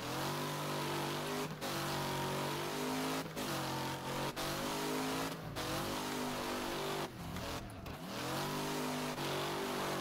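Modded Piper MKII race car in Wreckfest tears across dirt, its loud buzzing engine climbing in pitch, then dropping sharply through several quick downshifts before revving up again, continuous and close.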